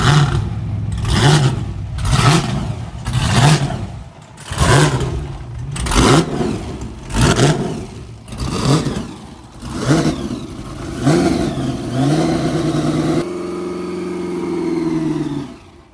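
A car engine revs hard during a burnout, with about ten loud, close rising-and-falling surges before it settles into a sustained high drone that then cuts off.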